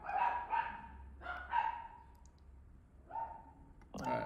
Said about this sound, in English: she's only barking at the moment